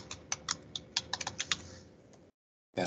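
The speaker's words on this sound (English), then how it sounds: "paste in the tag path and then just type in availability" Quick, light keystrokes on a computer keyboard clatter in an uneven burst of about a dozen taps, close and fairly quiet, then stop before one final clustered strike.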